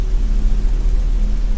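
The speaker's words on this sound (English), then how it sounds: "Only the sound of rain." Steady rain pours down as the backdrop to a ghost story about a hitchhiker in a car, a constant even hiss with a low rumbling undertone, no voices and no breaks.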